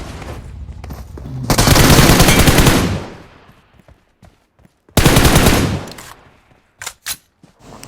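Gunfire in the mobile battle royale game BGMI: two loud sustained bursts of automatic fire, the first about a second and a half long and the second shorter, followed by a few sharp isolated shots.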